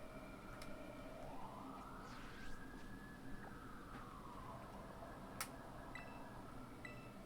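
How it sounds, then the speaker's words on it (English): A distant police siren outside an apartment wails in one slow rising and falling sweep, faint and muffled against a low steady background hum. "I'm hearing police sirens outside my apartment IRL"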